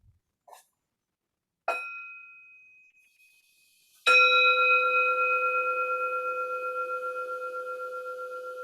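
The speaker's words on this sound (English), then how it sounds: "I'll just ask Rahina to bring the bell in one more time" A meditation bell is struck during a group practice session: a couple of faint taps, then a clear ding, and finally one strong ring whose long pure tone slowly pulses and fades, alone and close.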